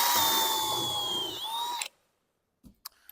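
A power drill with a 9.5mm bit bores through roof-rack mounting blocks, a steady high whine running near and loud before cutting off, followed by a few sharp clanks and knocks.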